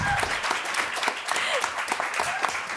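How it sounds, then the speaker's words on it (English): An audience at a student election question time night applauds the support and community candidates, a dense, steady patter of many hands clapping at moderate volume throughout. "Can we please get another round of applause for our support zone candidates tonight?"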